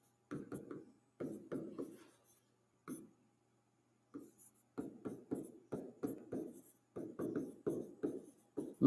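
Pen or chalk writing a question out by hand, giving a close series of scratchy strokes in short bursts with brief pauses between them, and no talk over it.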